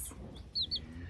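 Young chicks on a farm give two quick high peeps close by, over a low murmur of background noise.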